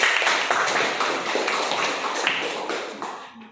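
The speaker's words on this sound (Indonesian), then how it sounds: "Kita beri aplaus dulu kepada teman kita." Classmates in an Islamic junior high school classroom clap for a student who answered, a dense, steady patter of many hands at close range that fades out at the end.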